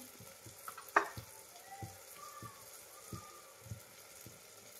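Chopped onion and tomato sauté in a hot pan, giving a faint, low sizzle with soft intermittent stirring scrapes and one sharper clatter near the start.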